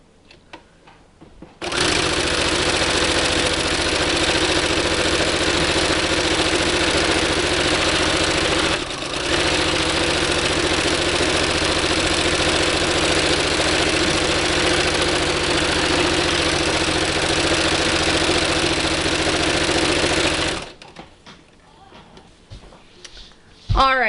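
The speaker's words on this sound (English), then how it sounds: "Line up your fabric and sew away." A sewing machine stitches cloth napkin fabric in one long, loud, steady run of motor whir and needle chatter, stopping abruptly near the end.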